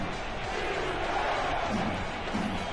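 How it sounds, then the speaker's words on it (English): Simulated stadium crowd in a football video game, a low, steady roar of massed voices without distinct claps or shouts. "The Santa Fe Gorilla crowd letting the Sparrows hear this one."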